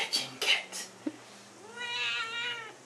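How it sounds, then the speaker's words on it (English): A cat meows in a long drawn-out cry at close range, following a few short bumps and rustles, with a person speaking nearby. "And my trusty cockroach catching cat."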